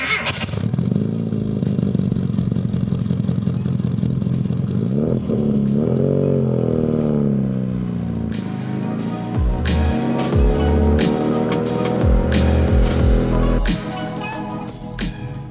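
Classic Mini Cooper fitted with a John Cooper Works kit exhaust: a loud, close engine drone with rising and falling revs, a raspy exhaust note, and clattering shifts, then bursts of acceleration toward the end.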